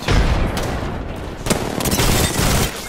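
Rapid gunfire in a chaotic firefight in the battle-royale game Apex Legends on the Kings Canyon map, with loud, dense shots and booms filling the whole stretch, including a shotgun among them.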